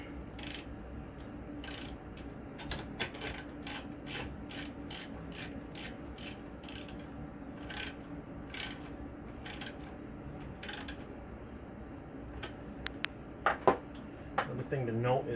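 A bolt is snugged up by hand while a seven-tube case feeder for a Lock-N-Load press is assembled against a wall, giving a long run of sharp, evenly spaced ratchet clicks with light metallic creaks and rubbing near the end.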